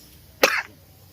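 A single sharp cough bursts out close by, short and forceful with a quick breathy tail, set against a quiet background with no talking.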